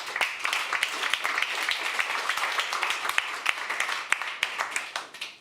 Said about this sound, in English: I think you deserve a round of great applause.